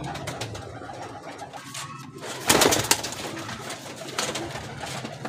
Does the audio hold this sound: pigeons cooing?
yes